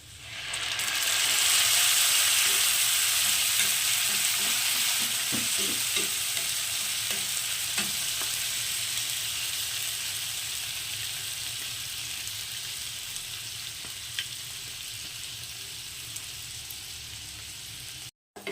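A masala paste of ginger, garlic, tomato, coriander leaves and green chili fries in a pan for an egg tawa fry, giving a steady loud sizzle with occasional stirring scrapes throughout.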